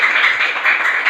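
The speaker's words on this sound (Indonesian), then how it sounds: "Oke, tepuk tangan buat kalian semua." A fifth-grade class applauds in a classroom, with many hands clapping in a dense, even patter that stays fairly loud and close for the whole moment, with no speech.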